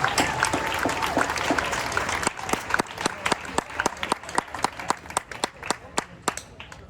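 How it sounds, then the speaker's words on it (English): An outdoor crowd at a Black Lives Matter memorial bike ride event claps, dense applause at first thinning into a few scattered, distinct claps near the microphone. "Clap it up, clap it up."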